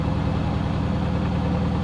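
A 2016 Mercedes-AMG GT S engine idles unevenly with a low, rumbling throb and slight stumbles, steady and close; the check engine light is on.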